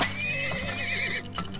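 A horse neighs in the mining video game Turmoil (Deeper Underground DLC): one loud, wavering whinny with hoof clip-clops over steady game music and ambience, fading near the end.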